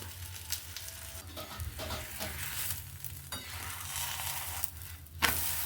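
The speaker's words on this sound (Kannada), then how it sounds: "ಈಗ ಇದಕ್ಕೆ ತುಪ್ಪ ಇಲ್ಲಾಂದರೆ ಎಣ್ಣೆ ಹಾಕಿ ಬೇಯಿಸ್ಬೋದು" Aloo paratha frying in ghee or oil on a hot pan, a steady close sizzle and crackle with occasional soft spatters and stirring scrapes, no voices.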